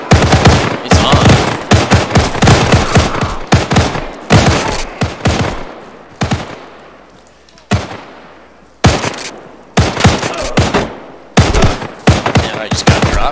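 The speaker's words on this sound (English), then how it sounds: "I have a trigger here that's going to set everybody here with a shotgun into a big free-for-all" Shotgun gunfire in a video game free-for-all, loud repeated blasts in rapid bursts with short pauses between volleys, each shot sharp and booming, some trailing echoes.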